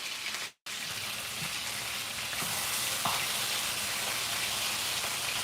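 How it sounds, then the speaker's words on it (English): Turkey deep frying in hot oil gives a steady, dense sizzle and crackle at close range, broken only by a brief cut near the start, with no talk over it. "So I'm deep frying it"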